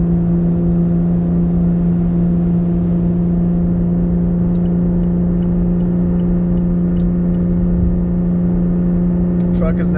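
Cabin drone of a Magnuson supercharged 2018 Toyota Tacoma towing up a steep grade, a loud, steady low engine hum with whine held throughout, under light speech.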